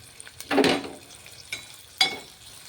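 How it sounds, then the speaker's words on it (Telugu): Onions frying in a pan for a dried fish and tomato curry, soft sizzle under a few distinct stirring scrapes, two louder bursts separated by quieter moments, close by with no talk. "మనకు ఉల్లిపాయలు అయితే బాగా వేగినాయండి"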